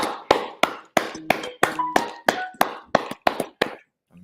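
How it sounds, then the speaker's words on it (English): Steady, evenly spaced hand claps, about a dozen sharp hits roughly three per second, close and crisp at a live show with no talking over them. "let's clap it up."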